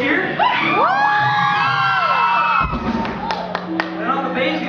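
A crowd at a live rock show at the Metro in Chicago cheers and whoops loudly for a band member. High-pitched yells and shouts overlap throughout, with a brief pause partway through before the cheering picks up again.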